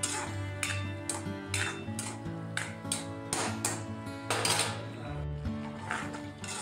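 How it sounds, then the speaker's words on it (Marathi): A spatula clinks and scrapes against a kadai as ground masala is sautéed in oil, with repeated metallic taps throughout, over steady background music. "तर इथे मी छान मसाला परतून घेते."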